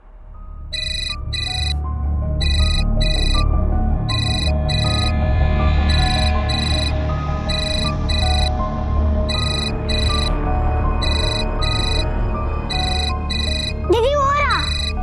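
A mobile phone ringtone chimes inside a house in repeated electronic bursts, loud and close, with voices talking over the ringing and a brief rising squeal near the end.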